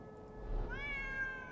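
A cat meows once inside a card game with deer, cat and rat cards, a short rising harmonic cry over a steady low hum of game music.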